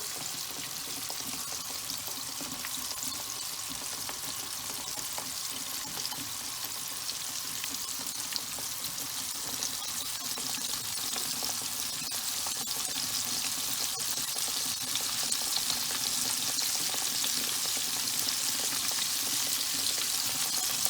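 Crumbed vegetables and pork schnitzel frying in hot oil, a steady close bubbling sizzle with a bright hiss that holds evenly throughout and grows slightly louder toward the end, with no talking.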